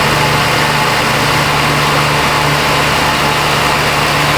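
A 2007 Chevy Silverado 1500 Classic idles while warming up with a rich-running fault, a loud, close, steady rumble with no talk over it.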